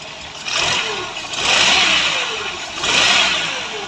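A car engine being revved during a cylinder head gasket check, with three rising swells of mid-pitched engine roar over a steady running drone, close by.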